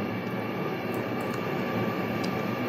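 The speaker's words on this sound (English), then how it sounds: "But for a plane of this size, it flies really well." A spaceplane flying in the video game Kerbal Space Program, a steady roaring engine drone mixed with broad rushing air noise, continuous and even in loudness with no breaks.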